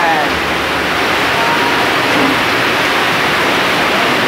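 Water at a river or waterfall in Maramag, Bukidnon rushes with a loud, steady, unbroken roar close by.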